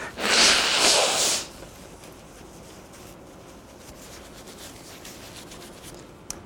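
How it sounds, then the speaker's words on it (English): A person blows their nose once, a loud, breathy burst lasting just over a second, during an indoor training course. Quiet room tone follows. "after I blow my nose."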